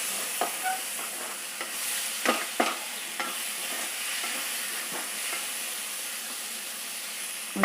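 Brinjal pieces sizzle and fry in a pan for a red rice curry, with a steady hiss broken by a few sharp scraping stirs of a spoon, close and fairly quiet.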